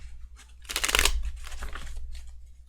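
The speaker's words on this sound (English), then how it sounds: "I totally know how to shuffle." Tarot cards being shuffled by hand, a short papery riffle and rustle that swells and fades over a couple of seconds, close by and alone.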